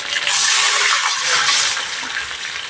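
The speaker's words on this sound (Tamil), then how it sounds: "இதில் 1 லிட்டர் அளவு தண்ணி சேர்த்துக்கலாம்." Water poured into a hot pan of tempered mustard seeds and curry leaves, a loud, close gushing hiss that swells quickly and keeps running steadily, fading slightly toward the end with no talking.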